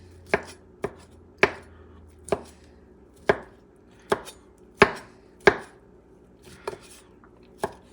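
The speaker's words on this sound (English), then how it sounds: "Now you come with the other sausage. You're going to cut it in slices, okay?" Knife slicing sausage on a cutting board: about a dozen sharp, crisp chops at an uneven, unhurried pace, each a clean knock on the board, close and clear with no talking.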